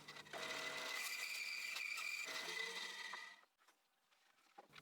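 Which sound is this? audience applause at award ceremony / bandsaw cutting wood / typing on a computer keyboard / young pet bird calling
bandsaw cutting wood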